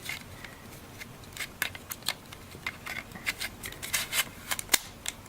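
Nintendo Switch Joy-Con controllers slide onto the console, giving a quick run of sharp, close plastic clicks and ratchety snaps over a faint background hiss, with no speech.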